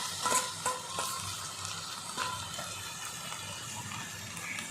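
Chopped young green bananas fry in a wok with onion and garlic, giving a moderate steady sizzle with watery bubbling and a few sharp stirring clinks early on.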